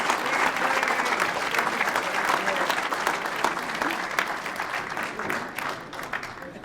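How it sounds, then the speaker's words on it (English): Sustained applause from a large audience at a Martin Luther King Day breakfast, dense steady clapping that holds loud throughout and only thins slightly near the end. "Let's give them a great round of applause."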